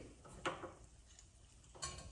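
Two faint metallic clanks, a cooking pot set down on a home stove while making sambar, spaced about a second apart in a quiet kitchen.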